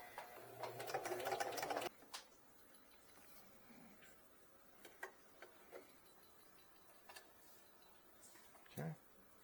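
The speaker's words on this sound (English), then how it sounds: "I think the sewing machine just do it." A sewing machine stitches a ball cap in a quick, loud whirring run up close, then stops. Faint clicks and mechanical ticks follow, along with a brief sharp rattle near the end.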